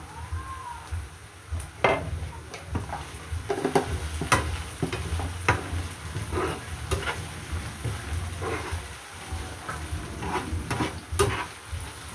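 Ingredients for chicken fried rice are sautéed over low heat, with a steady soft sizzle throughout and intermittent scraping clinks of a spatula stirring against the pan.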